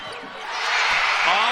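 Crowd at a high school girls' state basketball championship game in Illinois, a rising roar of cheering that swells from moderate to loud and holds as a broad continuous wash.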